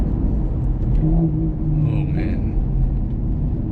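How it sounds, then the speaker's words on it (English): A Maserati MC Stradale's engine and exhaust rumble steadily from inside the car, a deep continuous drone with a slight rise in revs, under a brief spoken exclamation. "these are very beautiful sounding gearbox, beautiful sounding engine and exhaust"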